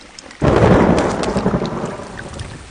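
Heavy rain falls steadily while a deep roll of thunder breaks in suddenly and slowly rumbles away, with no voices present.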